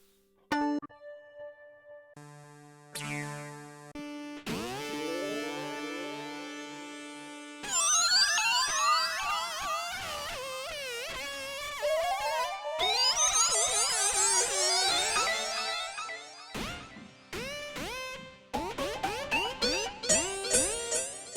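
Bowed violin notes pass through a BOSS SY-300 guitar synthesizer, producing warbling, sweeping, glitchy electronic tones that shift abruptly between patches, with no talking.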